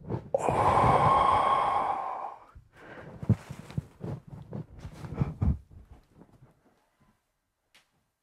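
During a French guided relaxation, a single long, deep inhale is drawn in close to the microphone, followed by softer, uneven breaths and faint rustles that fade to near silence.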